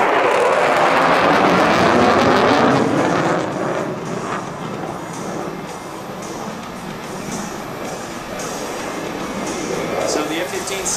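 An F-15C fighter jet's engines roar at an airshow as it shows off its thrust. The loud, broad, continuous blast is strongest at first, then eases slightly and swells again as it passes.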